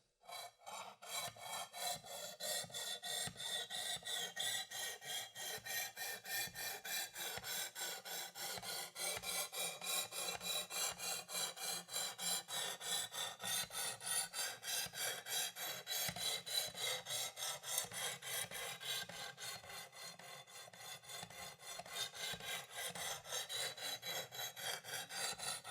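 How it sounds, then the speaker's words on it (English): Steady back-and-forth rasping of a knife edge stroked across a 320 grit stone on a Precision Adjust sharpener, a continuous rhythmic scrape with light, even pressure, close and alone for the whole span. "the sharpening motion looks like this."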